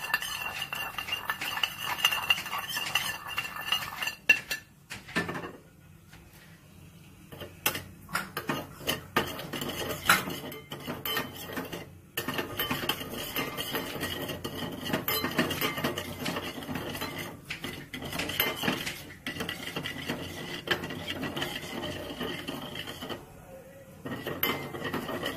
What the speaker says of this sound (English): you blend the ghee and the salt together, and then you put it on the burner and heat it and make it piping hot